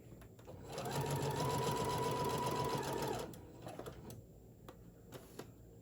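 Sewing machine stitching the heavy body of a large teddy bear, a close, steady whir lasting about two seconds and then stopping, followed by quiet handling noises.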